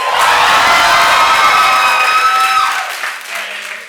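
A classroom group bursts into loud applause mixed with whoops and cheers, sustained and close, then fading out toward the end.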